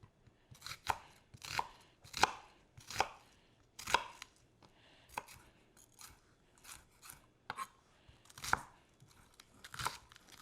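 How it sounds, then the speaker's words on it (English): A knife dices a red onion on a cutting board, about a dozen crisp close chops in an irregular rhythm with quiet pauses between strokes. "We're dicing 1 red onion."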